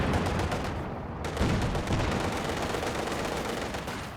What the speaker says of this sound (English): The machine gun does eventually get polished off by Finndeed